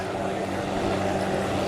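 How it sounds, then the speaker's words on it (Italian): An Italian-built Nardi Hughes 500 (Cayuse) helicopter of the Guardia di Finanza flies over the 2017 Jesolo air show, its rotor and engine a steady, broad droning roar that holds level throughout, with no voices over it. "L'elicottero è uno Hughes"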